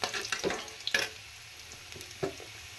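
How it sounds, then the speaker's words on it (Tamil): Garlic sautéing in a pan gives a soft, steady close sizzle, broken by a few sharp scrape-and-stir clatters and short pauses, with no voices. "பூண்டு கொஞ்சம் இது கொஞ்சம் வதங்கட்டும்."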